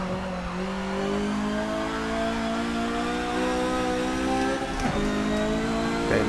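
Datsun 510 race car in Forza Motorsport 7, its engine droning steadily at high revs with rising and falling pitch through gear changes, loud and continuous with no talk.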